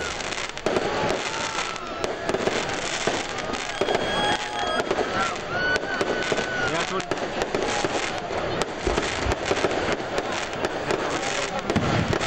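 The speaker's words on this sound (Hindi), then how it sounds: "गवर्नर हाउस पेशावर में भी आतिशबाजी।" Fireworks burst over Governor House in Peshawar for the Independence Day celebration: dense, continuous crackling and popping with sharp bangs and whistling trails, while voices of a crowd murmur underneath.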